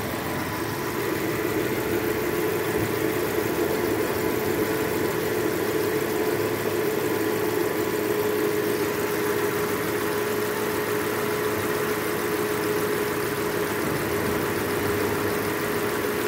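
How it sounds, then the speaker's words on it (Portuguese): A 2019 Chevrolet Onix engine idling roughly with a misfire after a timing belt replacement, a steady close mechanical drone with an uneven shaking pulse running throughout, no talking over it. "Olha o motor tremendo."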